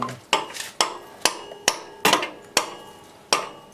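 A hammer taps a part tight during final assembly in a cramped spot, giving about seven sharp, evenly spaced metallic strikes, each ringing briefly before the next, close and clear with no talk.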